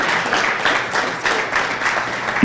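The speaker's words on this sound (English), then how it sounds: "I would really appreciate if you would give them a round of applause and thank them for their participation." A brief stretch of steady audience applause at a university sports panel event, dense and continuous with a gentle pulsing rhythm.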